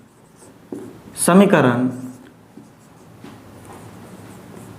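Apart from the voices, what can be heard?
writing an equation on a board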